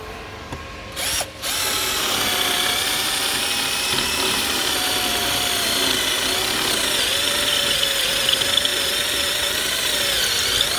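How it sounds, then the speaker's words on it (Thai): Enzo 48V cordless drill boring into a concrete wall with a large bit, a loud, close, continuous whining drone after a brief stop-start at the beginning, heard alone. "เดี๋ยวเราเราจะลองเจาะผนังปูนดูนะครับ"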